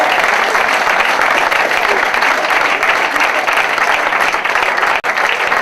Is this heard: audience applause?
yes